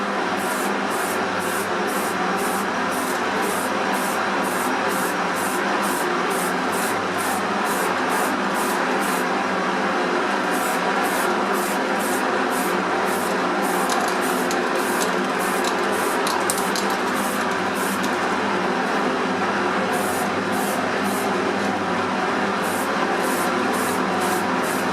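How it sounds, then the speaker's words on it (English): A steady, continuous hiss of primer spraying from an aerosol can, close and fairly loud, running without pause under a faint rhythmic mechanical ticking. "the force of the spray will actually blow them away"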